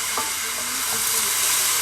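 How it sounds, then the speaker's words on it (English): Browning food for marinara sauce being stirred hard in a hot pan, a steady loud sizzle and hiss with scraping stirring strokes on top. "So I'm stirring it pretty heavily."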